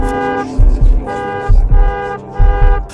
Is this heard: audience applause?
no